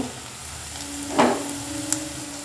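Chopped ginger and garlic go into oil with browned onions, giving a soft, steady frying sizzle, a brief swell of hissing midway and a small clink near the end.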